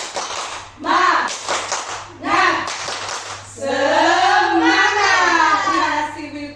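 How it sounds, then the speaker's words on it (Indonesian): A group in a classroom-style session claps a rhythmic spirit clap in short bursts, with voices chanting and calling out loudly between and over the claps. "Sekali lagi tepuk semangat."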